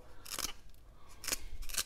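A pencil sharpener shaving a carpenter pencil makes three short, crisp scraping crunches, close and fairly loud, separated by brief pauses.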